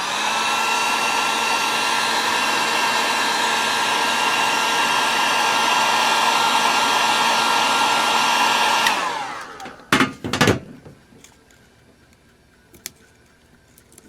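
A heat gun warms a sticker on a snow brush, blowing as a loud, steady roar for about nine seconds before it switches off, followed by a few sharp clicks and handling knocks in near quiet.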